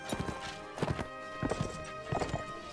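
Horse hooves clip-clop at a gallop in the medieval combat game Mount and Blade Warband, a horse archer's mount thudding in uneven bursts over steady battle background.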